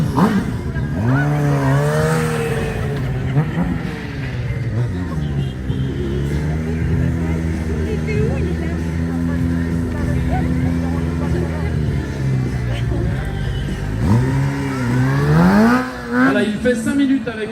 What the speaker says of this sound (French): il a fait chauffer le 1000 GSXR ce sont deux modèles 2010